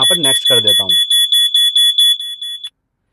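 A GPS tracker app sounds its alarm, a repeating high electronic beeping pulsed about four times a second, loud and close, running under a voice at the start and then alone before stopping abruptly.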